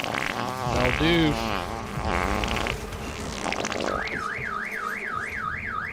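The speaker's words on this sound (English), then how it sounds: "I never heard a car alarm on one of these before" A warbling car alarm siren in Death Stranding rises and falls repeatedly in the second half, preceded by busy game noises and a short buzzing, wobbling tone.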